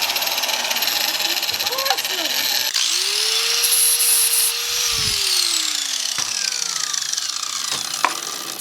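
A power tool blade cuts a metal plate in sections on a 914 project car, a close, harsh whine that rises and falls in pitch between brief cuts, with short knocks and scrapes around it.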